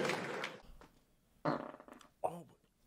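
Farts from a comedian: a couple of short, low, raspy bursts spaced apart, fairly faint and close, following a moment of talk and laughter.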